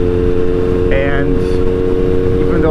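A 2009 Triumph Speed Triple 1050 motorcycle is ridden on a two-lane road, its engine droning as a loud, steady hum with wind rush, while a rider talks over it.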